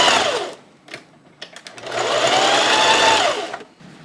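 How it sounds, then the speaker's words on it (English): A sewing machine stitches a front neckline seam on a garment, with a short burst of whirring, a pause filled with handling clicks, then a longer loud run that slows and stops. "And then we're going to sew this front neckline here."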